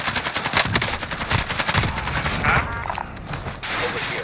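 Gunfire in Call of Duty: Modern Warfare: dense automatic bursts rattle almost continuously, loud and close, with brief gaps, while voices talk faintly underneath.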